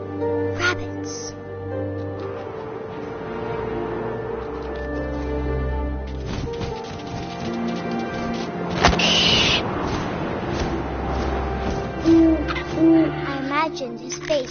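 An owl hoots in the video game What Remains of Edith Finch, soft calls heard among wind and ambient game sounds while a voice narrates.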